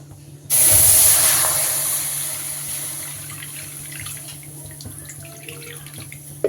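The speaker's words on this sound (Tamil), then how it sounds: "தண்ணி பார்த்திங்கன்னா கொதிச்சிருச்சு." Water for noodles comes to a boil in a pot, starting with a sudden loud hissing rush of bubbling that slowly settles into a steady, softer simmering hiss close by, with no voices.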